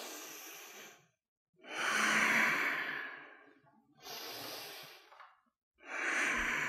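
Slow, deep breathing during a yoga movement, close and clear, with long airy exhales and inhales alternating in a calm rhythm, and no talking.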